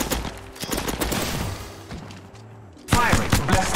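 Rapid gunfire bursts from a first-person shooter video game, dense popping shots layered over game sound effects, with a louder burst near the end.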